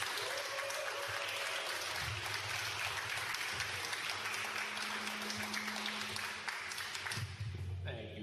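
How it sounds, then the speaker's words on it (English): A crowd at a real estate investment mixer applauds steadily for several seconds, with speech under the clapping. "Can we give them a big round of applause?"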